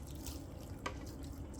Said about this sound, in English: So you just want to rinse the grater